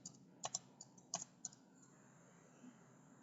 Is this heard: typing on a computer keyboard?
yes